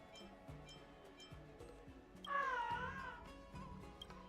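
A creature meows in a video game, a single drawn-out wavering cat-like meow rising clearly over soft background game music and light clicks, no talk.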